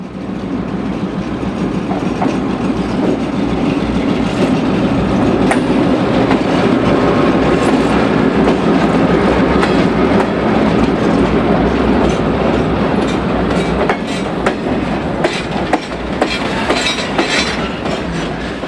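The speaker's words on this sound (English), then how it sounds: "catch the Cliffs crew returning the empty train back to the blast furnace" A long, empty steel mill freight train heading back to the blast furnace rumbles past close by in the Chicago area, steady wheel clatter and metallic rattling of cars throughout, loud and without voices.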